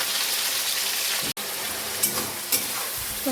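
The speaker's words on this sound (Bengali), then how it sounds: "আলুটাকে ভালো করে ভেজে নিই" Potatoes frying in a pan after fish, a steady close sizzle with a brief dropout and a few stirring scrapes, no voices.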